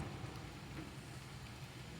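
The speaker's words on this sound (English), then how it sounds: "This is just water on the leaves because I hear the wind blowing in the trees." Water drips from wet leaves while wind moves through the trees outdoors, making a steady, even, rain-like hiss with no distinct individual drops and no voices.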